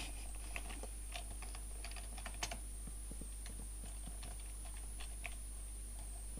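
Quick, light clip-clop of a horse's hooves trotting steadily in Minecraft, soft and close, over a constant electronic hum and high whine.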